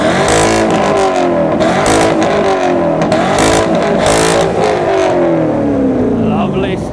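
A supercar at a loudness sound-off event during a supercar weekend revs hard and close. The engine roars steadily at high volume with rising and falling pitch across the revs, and voices sound faintly in the background.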